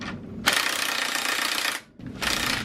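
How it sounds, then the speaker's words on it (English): An impact wrench rattles hard on the rear axle nut of a supermoto, two loud close bursts with a short pause between them and no talking. "first remove the axle nut"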